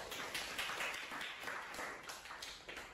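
Audience in a campus talk-show setting clapping hands, a steady dense patter of many claps sustained throughout at moderate loudness with no voices over it.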